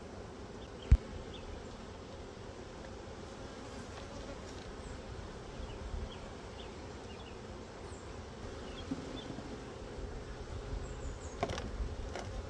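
Honeybees hum around an open hive during an inspection, a soft, steady buzzing with individual bees passing close at times, plus a sharp knock near the start and a few faint clicks.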